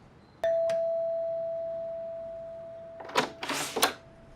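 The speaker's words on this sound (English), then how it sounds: "rang Vicky's doorbell" A single electronic doorbell tone rings out and hangs in a long, slowly fading sustain, followed by a few brief rustling, shuffling noises.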